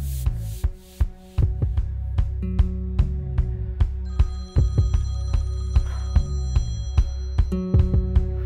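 A phone rings in a Bollywood thriller scene, with repeated sharp electronic tones pulsing in a steady rhythm against a low hum, close and fairly loud.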